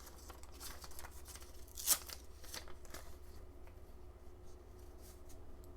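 Paper is torn for a journal at close range, with soft rustling and scratchy tearing strokes and one sharper rip near the two-second mark, all fairly quiet.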